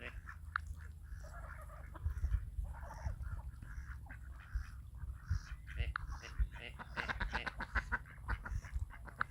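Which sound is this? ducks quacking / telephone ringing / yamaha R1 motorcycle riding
ducks quacking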